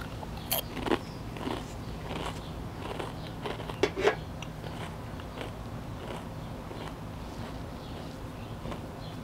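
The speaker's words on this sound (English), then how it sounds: "take a bite of those chips" Crunchy, ridged blue cheese and wine-flavoured potato chips bitten close to the mic, a few sharp crackling crunches standing out around the middle against a quiet, steady background.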